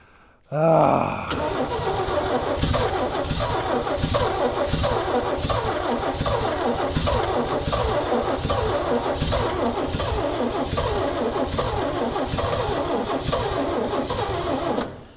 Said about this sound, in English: I feel like the starter doesn't turn it fast enough.